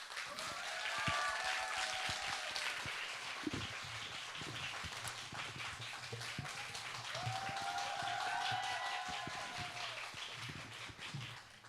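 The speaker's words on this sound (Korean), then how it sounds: "여러분 큰 박수 부탁드립니다." Audience applause at the 2022 Seoul International Writers' Festival opening ceremony, a dense, steady wash of clapping that holds for the whole stretch, with faint tonal sounds drifting in the background.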